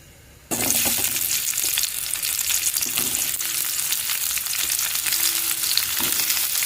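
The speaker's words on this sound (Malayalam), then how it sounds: "ചീനച്ചട്ടി അടുപ്പത്ത് വെച്ചിട്ട് ചൂടാകുമ്പോൾ നമുക്ക് കുറച്ച് വെളിച്ചെണ്ണ ഒഴിച്ച് കൊടുക്കാം. ചൂടായി വരുന്ന സമയത്ത് ഉള്ളി," Onions hit hot coconut oil in a pan with a sudden loud sizzle, then keep frying in a steady, close crackle with occasional stirring scrapes.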